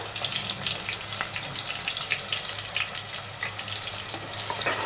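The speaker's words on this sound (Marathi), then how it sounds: "आणि छान असं परतून घेऊया कांदा" Onion and green chillies sauté in a hot pan for chicken biryani, giving a steady close-up sizzle and crackle that runs unbroken throughout, with no talking.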